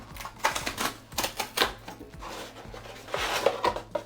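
Cardboard packaging of a Bqeel Android 9.0 TV box being opened, a string of sharp close rustles, taps and scrapes in irregular bursts with no talking.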